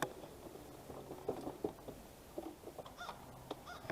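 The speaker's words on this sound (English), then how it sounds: "bird, I hear you, crow" Scattered harsh crow caws ring out at moderate distance, several short squawks spread over a few seconds amid faint outdoor background noise.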